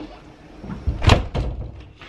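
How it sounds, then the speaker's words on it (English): A door slams shut in a house, one heavy thud with a brief rattle after it, loud and close in a quiet room. "Slam the one more damn door!"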